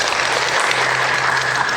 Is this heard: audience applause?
yes